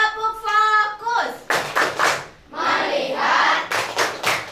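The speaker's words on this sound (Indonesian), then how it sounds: "Yuk, Ustazah mau mengajarkan untuk tepuk fokus ya." Children in a classroom perform the 'tepuk fokus' clapping routine, with sharp rhythmic claps in short bursts mixed with chanted voices and a sung opening.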